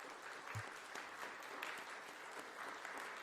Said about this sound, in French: Donc applaudissez-vous, n'hésitez pas